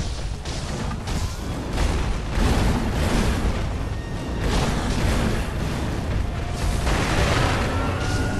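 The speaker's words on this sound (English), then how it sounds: "Use the firecrackers just to keep him in place." Firecrackers burst against a charging bull in the game Sekiro: Shadows Die Twice, a dense, continuous roar of crackling booms and crashes swelling and easing over several seconds.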